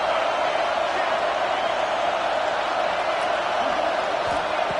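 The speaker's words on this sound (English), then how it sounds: "Listen to the crowd energy here in the early going." A Clemson football stadium crowd roars in a dense, continuous wash of cheering that stays loud and unbroken throughout, with a commentator's voice layered over it.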